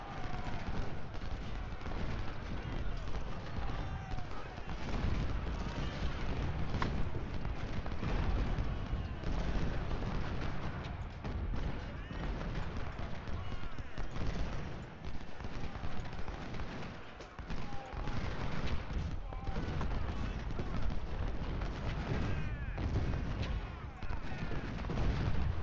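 Dense, continuous battle din of musket volleys and artillery booms from an Ultimate General: Civil War engagement at Saunders Farm, a steady wall of overlapping shots with no pauses across the clip.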